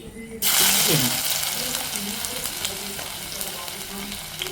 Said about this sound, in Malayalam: ഉലുവ പൊട്ടിക്കഴിയുമ്പോൾ